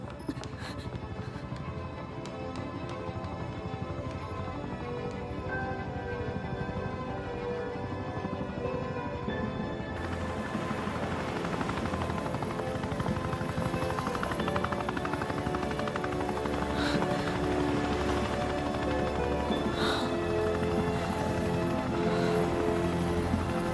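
A US Coast Guard helicopter thuds and whines steadily overhead, its rotor and engine drone continuous and fairly close, growing louder and fuller partway through with a high turbine whine joining in.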